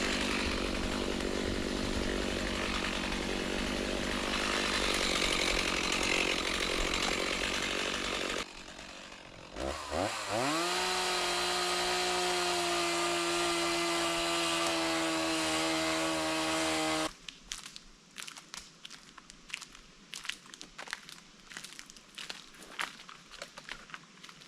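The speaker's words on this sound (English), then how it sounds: "I'm just taking off a little bit off the bottom because there's just a little bit of rot around the sapwood area" Chainsaw trimming the rotted sapwood off the bottom of a log for a wood shed foundation: a loud, steady cutting roar that drops out, revs back up to a sustained idle-like drone, then gives way to scattered knocks and footsteps.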